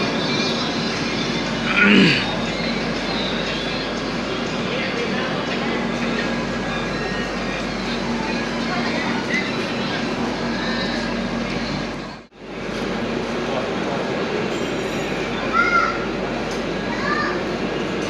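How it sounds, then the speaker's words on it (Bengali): The Kanchankanya Express pulls out of Bardhaman station with a steady broad rumble heard from on board, while voices murmur faintly in the background and the sound drops out briefly partway through. "আমাদের ট্রেন বর্ধমান স্টেশন থেকে ছেড়ে দিল"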